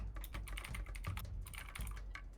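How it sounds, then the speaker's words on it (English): Fast, furious typing on a computer keyboard, a dense continuous clatter of key strikes, close and clear, with no voices. "I hear furious typing."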